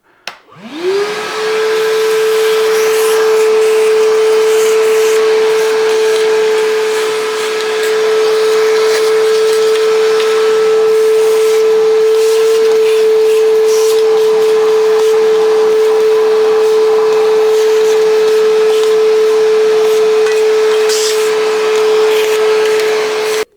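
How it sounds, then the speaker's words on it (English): An Evolution R11VAC-Li 18V cordless wet and dry vacuum cleaner starts up and runs with a steady, loud whine and airy rush, holding the same pitch throughout with no talking. "let's just see what this vacuum's like at giving this a clean up"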